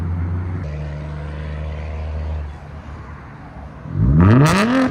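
A 2008-2012 Honda Accord 3.5L V6 on a custom 3-inch straight-pipe exhaust with high-flow cat and Vibrant resonator: low steady idle rumble, a brief dip, then a loud rising rev that sweeps upward near the end.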